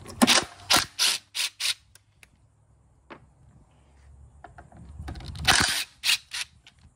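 Stainless steel screws come out of a GEM remote with a run of close, crisp ratcheting clicks from a driver, a pause, then another burst of clicking.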